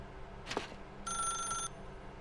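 A telephone bell in the video game The Stanley Parable rings in one short electronic burst after a soft thud, fairly quiet against a low background hum.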